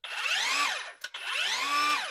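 A Walmart-brand Hyper Tough circular saw runs close and loud for about a second, briefly spins down, then revs up again for a second loud, whining burst with its pitch rising and falling.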